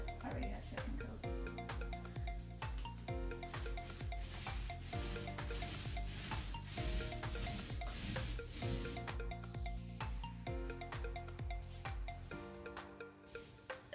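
A small paint roller spreads paint over board and batten in a small bathroom, making repeated soft, rhythmic rubbing swishes, close up, over a steady tonal background.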